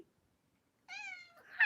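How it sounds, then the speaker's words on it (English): A house cat gives one clear, fairly close meow after a silence, followed by a brief rustle, with no talking. "as soon as she jumps up on the bed, that's when she meows"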